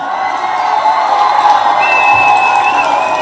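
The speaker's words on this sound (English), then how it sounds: "Let's give him a round of applause." A crowd applauds steadily, with clapping and some cheering blended into one continuous wash of noise for a few seconds.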